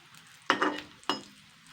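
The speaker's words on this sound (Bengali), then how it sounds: "তো বন্ধুরা আমি কিন্তু উল্টে পাল্টে সুন্দর ভেজে নিয়েছি।" Fish roe cakes frying in a pan, with two sharp bursts of sizzling and scraping as they are turned, each fading back into a quiet hiss.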